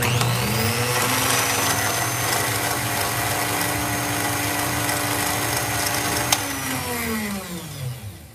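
An electric lift motor with gear reduction runs close by, a loud steady mechanical whir with a geared ratcheting buzz, then winds down near the end, no talking.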